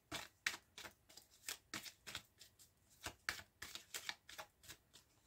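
A tarot deck is cut and shuffled by hand, a rapid series of crisp card flicks and riffles repeating irregularly, close and quiet, with no talk.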